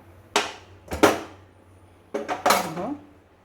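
A knife chops ginger on a board in a few separate bursts, pairs of crisp knocks with a bright, clattering edge, close by with no talking.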